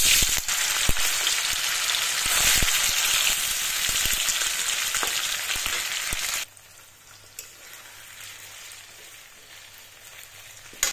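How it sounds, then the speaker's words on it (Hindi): Paneer frying in mustard oil in a pan gives a loud, dense sizzle for about six seconds, then drops abruptly to a much quieter hiss with a few faint clicks. "यहाँ मैं पनीर को फ्राई कर लेती हूँ।"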